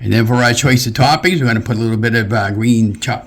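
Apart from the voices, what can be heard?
No everyday noise stands out behind the speech.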